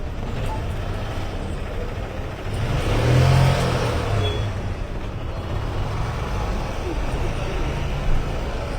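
A car driving on a road, a steady low engine rumble that swells louder for a few seconds near the middle before settling back to a constant drone alongside surrounding traffic noise.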